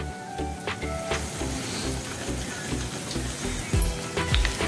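Urad dal fritters (bhaji) frying in hot oil, a close continuous sizzle and bubbling that swells in places, with no talking.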